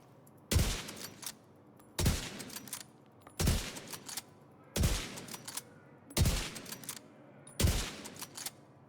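Weapon firing in a video game, six loud evenly spaced blasts about a second and a half apart, each with a brief rumbling tail, close and without speech.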